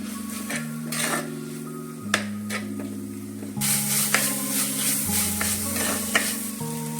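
Ginger garlic paste sautéing in a hot pan for an okra curry, a steady sizzle with scraping stirs and clinks of a utensil against the pan, with a sharper burst of frying partway through.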